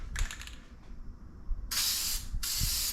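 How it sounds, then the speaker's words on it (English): Two loud bursts of headliner adhesive spray hiss close by, the first about a second long, the second shorter, after some faint clicking, while re-covering the headliner of a 1981 Dodge D150 truck. "put my material on with headliner spray"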